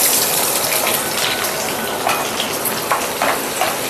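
Chopped onion dropped into hot oil with mustard seeds, frying with a steady broad sizzle and occasional sharper crackles, close and continuous with no talking.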